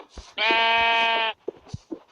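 A single long, steady sheep bleat in Minecraft Pocket Edition, loud and close, with a few faint thumps and game sounds around it.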